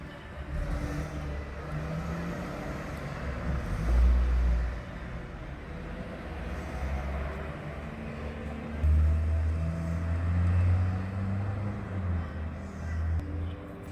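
A Holden Commodore engine idles with a low, subdued exhaust rumble after a resonator fix, swelling gently a couple of times, staying fairly quiet throughout.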